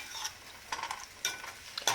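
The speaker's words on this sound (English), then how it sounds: "So now that we have our oil starting to bubble, we're going to go ahead and put our shrimp in" Shrimp frying in bubbling oil crackle softly at a low level while a utensil tosses them, with several short scraping bursts at irregular intervals over the steady sizzle.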